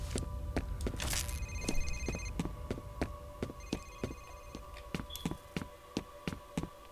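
A telephone rings repeatedly in the video game F.E.A.R., bright tonal bursts over a steady rhythm of footsteps and taps, with game ambience beneath and no talk.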